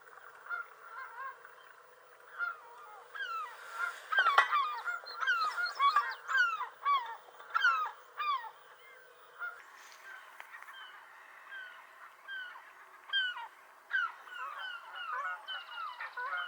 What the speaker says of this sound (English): listening to the sound of the sea and the birds